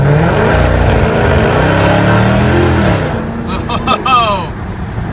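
A car engine heard from inside the cabin with the window down, revving hard during burnouts in motion: a loud, sustained droning roar, then higher rising whines, with people talking over it.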